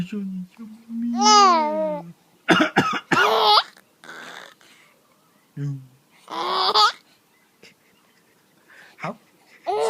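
A man coughs in a few short, harsh bursts, mixed with a young child's babbling and giggling nearby.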